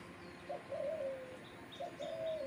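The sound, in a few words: birds calling outdoors, rooster crowing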